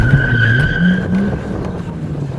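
A racing video game car spins out, its tyres skidding with a steady high squeal over a loud, droning engine for a couple of seconds, with no talking.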